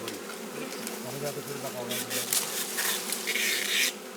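Honey bees buzzing around a wild hive in Jirisan, a dense, steady insect drone close by that swells and fades over a low hum of background noise, with no voices.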